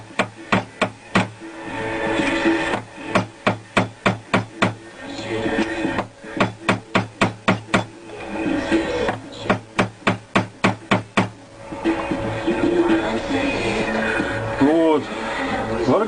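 Hammer taps on parts of a handmade vargan jaw harp, striking its frame to straighten a skew, in several close, rapid runs of sharp metallic knocks separated by stretches of someone talking.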